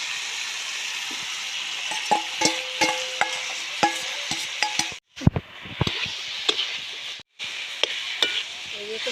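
Fried radish and potatoes being stirred into spice masala for a Bengali village-style radish dish, a steady sizzle with repeated scraping stir strokes close up, with two brief silent gaps.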